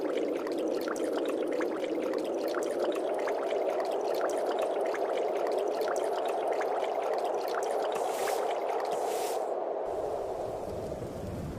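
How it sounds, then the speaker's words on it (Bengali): Rain falls over a river in an animated cartoon scene, a dense, steady hiss and patter that holds loud and close throughout before thinning abruptly near the end. "বলতে না বলতে দেখছি বৃষ্টি চলে এসেছে"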